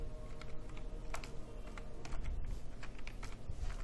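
Keys rattle on a computer keyboard as a headline is typed, a quick uneven run of close clicks and taps with no talking.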